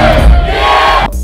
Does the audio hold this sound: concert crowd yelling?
yes